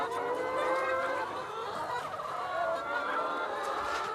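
Free-range laying hens on a French egg farm cluck and chatter in a dense, steady flock chorus, many birds overlapping close by with no pauses.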